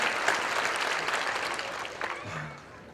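A church congregation at a 50th anniversary and building dedication service applauds to welcome guests, a warm burst of clapping that peaks early, then thins and fades, with a voice briefly heard near the end.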